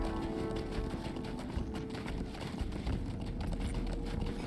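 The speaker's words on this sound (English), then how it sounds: "I will try to hold the camera steady on the horse so you can kind of see as we travel." A horse gallops steadily beneath a rider in Lord of the Rings Online, its hooves a dense, continuous drumming under a broad wash of wind and ambient game sound, with no talk.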